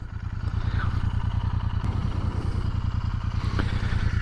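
A Royal Enfield INT 650 motorcycle's engine runs at a steady, even idle close by, its low rhythmic throb continuing without pause and no voices over it.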